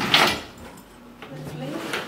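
A hotel room wardrobe door opens with a short wooden scrape and clunk at the start, followed by quieter handling sounds while a person speaks.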